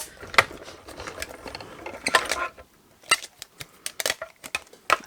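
A mini cut and emboss die-cutting machine cranks card through, making close mechanical clicks and ratcheting rattles in irregular bursts with short pauses.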